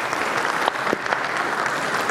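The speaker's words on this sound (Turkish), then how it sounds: "Profesör Doktor Mehmet Akkuş Hocamı alkışlarınıza davet etmek istiyorum" Audience applause fills a hall during a broadcast event in Ankara as a professor is welcomed. The clapping is steady, dense and continuous from a crowd, and no speech is heard over it.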